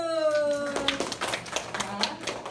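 Audience applause at a career talk concert, a burst of scattered claps rising after a sustained musical tone fades, moderately loud and somewhat uneven.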